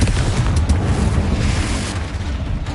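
Confringo explosion spell from the video game Hogwarts Legacy, a loud continuous booming blast with dense low rumble lasting throughout, no voices.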